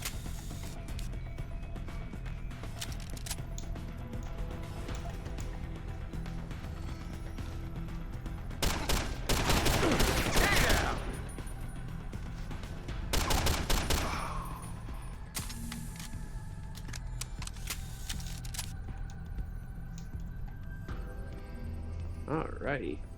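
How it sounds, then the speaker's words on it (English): Automated turret gunfire in the Deus Ex: Human Revolution game, heard as bursts of rapid shots and mechanical clatter amid game noise, with two louder volleys standing out near the middle. "Oh, that's what's shooting me. It's a turret."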